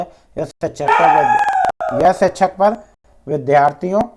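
A pet dog at home howls in drawn-out, wavering cries mixed in with someone speaking close by.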